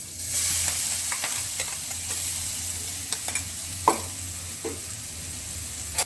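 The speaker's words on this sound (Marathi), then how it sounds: "आता तेल गरम झालं की आपण ह्याच्यामध्ये हा मसाला टाकणार आहे" Masala hitting hot oil in a pan while cooking bottle gourd sabji, giving a steady low sizzle with a few stirring clinks and scrapes, close and moderately quiet.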